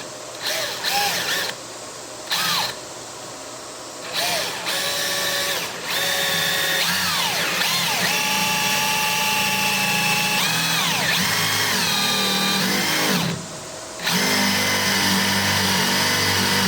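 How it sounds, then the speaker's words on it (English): A power drill whines and revs in bursts, pausing briefly between pulls, then runs long and strained as the bit bores a hole about an inch deep into a wooden door for a deadbolt. "go ahead and drill a hole in there"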